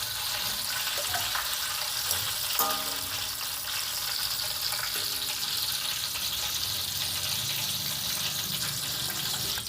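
Salted water sizzles in hot oil while potato chips fry, a continuous crackling hiss with a few sharp pops at a steady moderate level.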